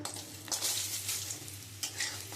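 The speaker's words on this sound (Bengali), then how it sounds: "আমি মাছ ভাজার তেলে আমি কয়েকটা বড়ি ভেজে নেব" Lentil dumplings (bori) sizzle in leftover fish-frying oil, a steady crackling hiss with bursts as they are stirred, close and fairly loud with no talking.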